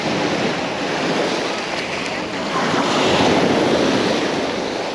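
Sea waves breaking on the shore at Dolphin beach in Lazarevskoye, a loud, broad roaring wash that swells and recedes close by, with wind buffeting the microphone.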